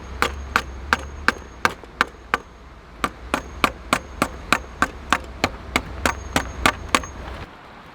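Sharp wooden knocks repeat at a steady pace, a blade chopping into wood to bevel a spear point, each hit crisp and close over a low background hum.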